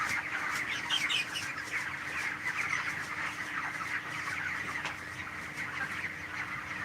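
A flock of chickens on a Cox's Bazar poultry farm, stressed by excessive heat, clucks and chatters in a steady, overlapping chorus at moderate distance with no voices.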